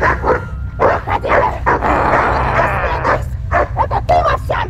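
A dog barks repeatedly in loud, close, irregular bursts with a few yips, mixed with someone shouting over it.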